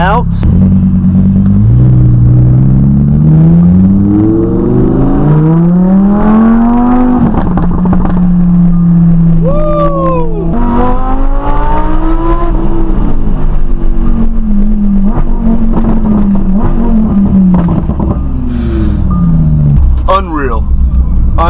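A Lamborghini fitted with a Soul Performance exhaust roars loudly up close, its engine note climbing and falling through repeated revs and gear changes, with voices talking over the car.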